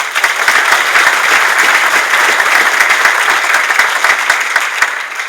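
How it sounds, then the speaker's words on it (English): A large audience at the 1st Annual WILLCO Awards in 2015 applauds school principals, the clapping dense, loud and sustained throughout with no speech over it. "I think they deserve a round of applause as well"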